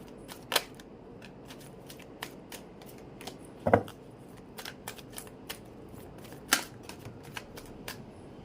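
Tarot cards being shuffled and drawn: quiet, crisp flicks and snaps in an irregular rhythm, with a few louder riffles standing out.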